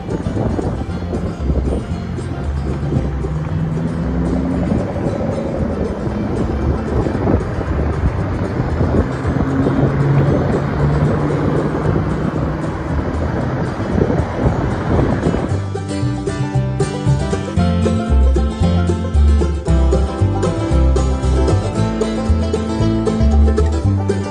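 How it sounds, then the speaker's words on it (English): Ferry engine rumble and rushing water with steady wind buffeting, loud and continuous, the character shifting partway through to a more tonal, rougher drone. "Ferry."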